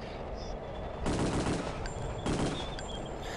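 A powerful gun fires in the Return to Castle Wolfenstein video game: two loud, sustained bursts of rapid gunfire, each lasting about a second, with no voices.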